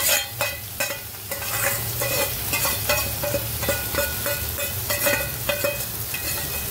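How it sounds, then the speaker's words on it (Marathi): Dried fish (sukat) frying in a pan, with a steady sizzle under repeated scraping strokes of a spoon stirring at a regular rhythm, close and fairly loud. "आता आपण ती सुकट टाकून घेऊ याच्यात"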